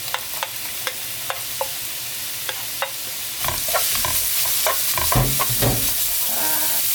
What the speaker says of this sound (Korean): 당근을 먼저 넣을게요